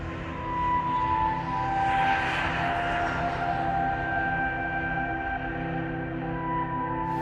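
An airplane passing over a hilltop overlooking a city, a steady, broad engine roar that swells slightly and then holds, heard on its own with no talking.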